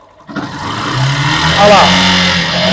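A Honda Factor 150 motorcycle with an engine noise problem starts up and settles into a steady low running hum, with someone talking over it.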